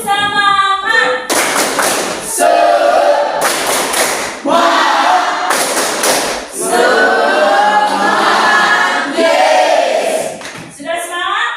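Students standing in a classroom perform a rhythmic group spirit clap, with bursts of synchronized clapping alternating with shouted chanting voices.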